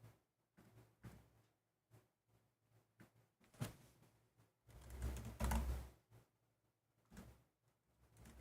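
Tarot cards being shuffled by hand, a run of soft riffling and flicking bursts with a louder, denser stretch near the middle, fairly close and quiet with no talking.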